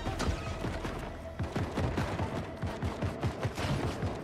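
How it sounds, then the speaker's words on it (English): Rapid gunfire in Fortnite, a close, loud burst of repeated shots in a quick irregular rhythm, heard alone without talk. "What are they shooting at?"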